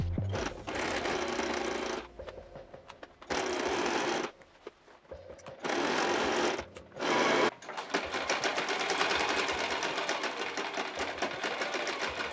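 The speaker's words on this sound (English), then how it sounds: "So I just finished sewing the whole entire lining" A sewing machine stitches the lining of a prom ball gown bodice in several close, loud bursts of steady whirring, separated by short pauses, then running continuously to the end.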